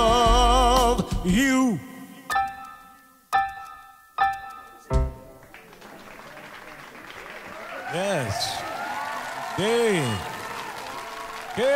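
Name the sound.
audience applause and clapping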